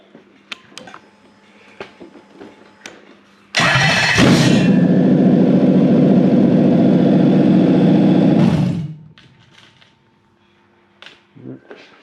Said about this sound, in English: Ignition in, fuel pump, fan, start.